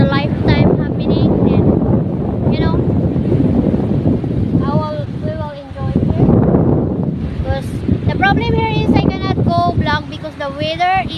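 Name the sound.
strong wind blowing at the seaside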